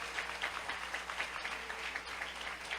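A church congregation clapping in a rhythmic beat during a worship service, a steady run of even claps at a moderate distance, fairly quiet and continuous throughout.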